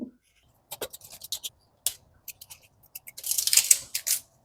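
A knife cuts peeled young radish into bite-sized pieces, giving short sharp crisp cuts and scrapes in uneven bursts, ending in a denser run of crunchy chopping, close and clear.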